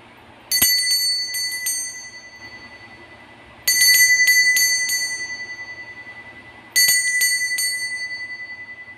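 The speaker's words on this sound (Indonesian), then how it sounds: "Coba kita akan memulai dengan ditandai lonceng berbunyi." Three separate rings of a small bright bell, each a quick cluster of strikes that rings out and slowly fades, spaced a few seconds apart in a quiet room.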